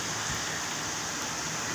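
Continuous rain in Karachi falls as a steady, dense hiss of drops on surfaces, heard from indoors at a constant level with no voices.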